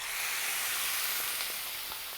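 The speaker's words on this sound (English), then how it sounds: "we want to hear that sizzle when it goes in there" Chicken sears in hot olive oil, giving a steady, loud hiss of sizzling that fills the whole stretch with little change.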